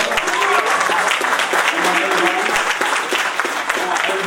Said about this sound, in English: I want everybody to give a round of applause just for all the fallen veterans